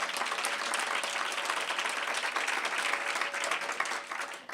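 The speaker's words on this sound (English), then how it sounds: "Give them a big round of applause." An audience at a women's awards ceremony breaks into sustained, dense applause, a steady wash of many hands clapping that holds loud throughout and tapers slightly at the end, with no speech.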